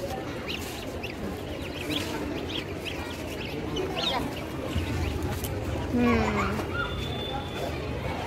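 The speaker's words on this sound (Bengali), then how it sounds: "রাজহাঁস, রাজহাঁস? সাদা রাজহাঁস।" Domestic fowl calling near a white domestic goose, with short honks and quacks plus clucking close by while people talk throughout.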